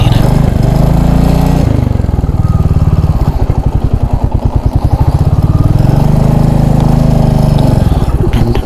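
A motorcycle engine idles and putters close by while being parked, with a steady low rumble, a brief rev near the start and a rapid chugging pulse through the middle, with no talking.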